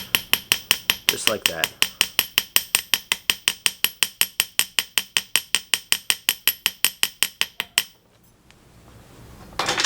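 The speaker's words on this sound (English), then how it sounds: "what I'm going to do is start by hammering" Quick, steady metal-on-metal taps from a small hammer forging a hand-made Calla Lily ring, dozens of evenly spaced ringing blows close up, then a short pause; a voice speaks briefly over the hammering.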